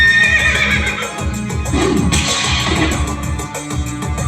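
During a stage theatre performance, a human voice imitates a horse's neigh with a loud, quavering whinny and rhythmic, clip-clop-like pulses running through it for several seconds.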